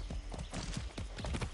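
Horse hooves clip-clop in a steady galloping rhythm while riding a horse in the video game Far Cry 6, close and continuous with no talk.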